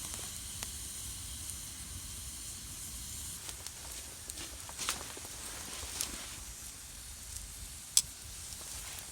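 Red onion and pork sausage sizzle in a camp pan at an overnight moss-shelter campsite, a soft, steady hiss broken by occasional small pops and crackles, with no talking.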